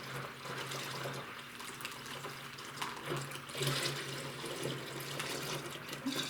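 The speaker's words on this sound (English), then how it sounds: "Pour the grape juice" Grape juice poured into a jug while making a Merlot wine kit, a steady liquid pouring and splashing stream running for several seconds, close and fairly quiet, with a low hum underneath and no talking.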